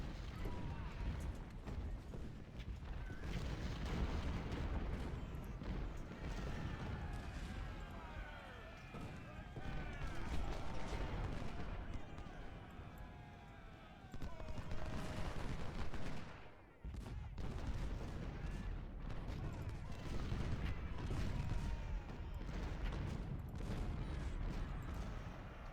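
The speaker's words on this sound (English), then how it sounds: "These 20-pounders firing at this cannon again" Repeated booms of 20-pounder cannon fire and crackling gunfire from an Ultimate General: Civil War battle continue under steady talking, with a brief lull midway.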